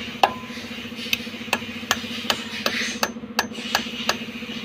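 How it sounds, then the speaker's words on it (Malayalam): A hammer repeatedly strikes a bolt to drive a pilot bearing out of a wax-packed bore with the flywheel still fitted: about a dozen sharp, evenly spaced metallic blows, close and clear. "അടിച്ച് ഇറക്കി വിടുക."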